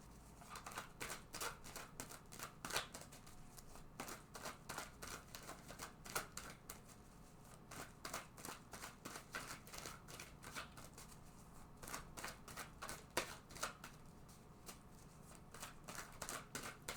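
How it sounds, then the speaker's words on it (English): Cards are shuffled over and over, a rapid papery riffling and flapping that repeats in steady bursts for a long stretch, close by. "So I'm just going to shuffle this deck several times."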